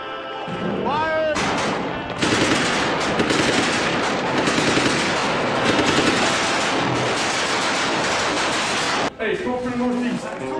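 Sustained machine gun fire in combat roars loud and close in dense rapid bursts for several seconds, with shouted voices before and after the firing.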